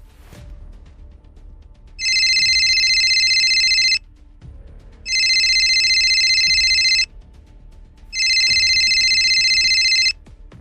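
A telephone rings three times, each electronic trill lasting about two seconds with even pauses between, loud and close.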